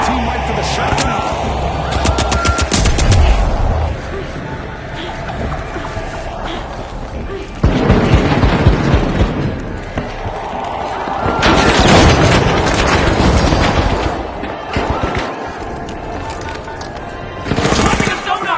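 Gunfire, grenade blasts and shotgun shots from the arena shooter The Finals, heard as a dense, loud run of repeated bangs and explosions with bursts of heavier booms throughout, mixed with an energetic commentator-style voice talking over the action.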